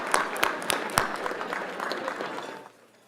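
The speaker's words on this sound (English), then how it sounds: "let's give him a round of applause." Applause for a speaker at the Latinos Unidos Luncheon, a steady patter of clapping from a seated crowd, moderately loud and close, fading out over the last half second.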